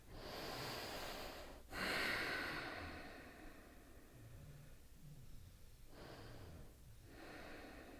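Audible breaths during a beginners' yoga exercise: several slow, close inhales and exhales, with sharp nasal snort-like bursts and long soft sighs, no speech over them.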